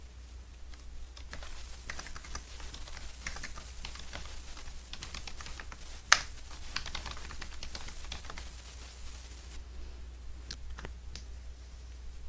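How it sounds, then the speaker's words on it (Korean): Steady, close clicking of typing on a computer keyboard while entering text into a text box in PowerPoint, irregular keystrokes running throughout with a low background hum. "글자를 입력해 줍니다."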